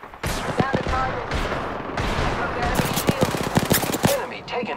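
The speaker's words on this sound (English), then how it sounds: "Opening fire." Rapid gunfire bursts in a battle royale shooter, played on a Blackview MP80 mini PC with a 12th-gen Intel chip: dense cracking volleys and single shots over roughly four seconds, loud and close, with game voice alerts mixed in.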